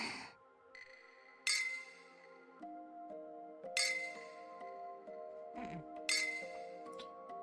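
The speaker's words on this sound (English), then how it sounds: "Clink your glasses of water." Glasses of water clink together in a toast, giving several bright, ringing chimes spaced a second or two apart over a faint sustained musical tone.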